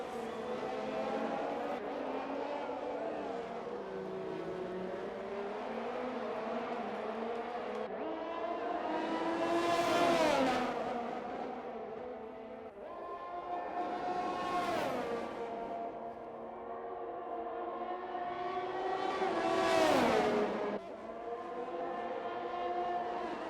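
Race cars roar through a racing video game at the Singapore circuit, engines rising and falling in three long sweeping passes over a steady drone.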